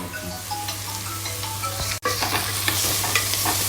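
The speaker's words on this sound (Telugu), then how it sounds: "సో ఆనియన్స్ని ఫ్రై చేసుకుంటున్నాను" Onions frying in hot oil in a pan: a loud, continuous sizzle with a steady low hum beneath it, broken by one sharp click midway, then the crackling fry carries on.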